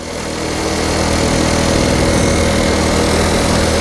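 Honda Cub C90 motorcycle engine running steadily while riding, a loud, continuous low buzzing drone that swells slightly at the start and then holds even throughout.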